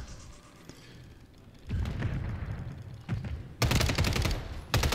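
Video-game gunfire in an Xbox shooter, a quiet start giving way to loud bursts of rapid shots in clustered volleys, the last bursts sharp and close.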